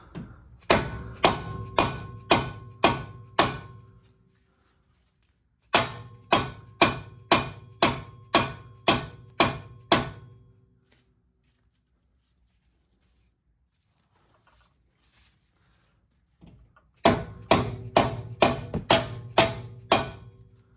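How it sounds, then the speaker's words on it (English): A dead blow hammer strikes a tie rod on a Nissan Rogue in three separate bursts of about seven to eight sharp, evenly spaced blows each, with quiet pauses between the bursts and no talking. "So let's try this dead blow."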